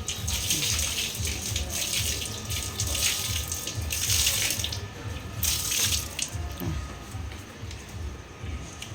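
Outdoor cleaning with water, a broom and a bottle of phenyl: running water splashes and gushes in bursts, with scrubbing and swishing strokes throughout, fairly close, and no clear talk.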